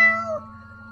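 A cat in an attic gives a single drawn-out meow, close and fairly loud, its pitch falling midway and then holding steady as a faint tonal drone continues underneath.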